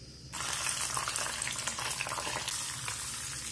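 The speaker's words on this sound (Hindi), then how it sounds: "दही वाले साबुदाने में तड़का लगा देंगे" Hot tadka of mustard seeds, red chillies, asafoetida and curry leaves poured into yogurt with sago, bursting into a loud, close sizzle that starts abruptly and keeps crackling steadily.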